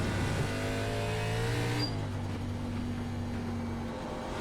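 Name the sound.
race car driving in iRacing ARCA Menards Series video game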